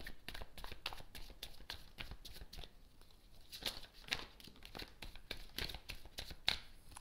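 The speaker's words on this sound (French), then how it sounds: "je prends 3 cartes" Three tarot cards are drawn from the deck with quick papery flicks and slides, a dense close run of crisp card sounds without speech.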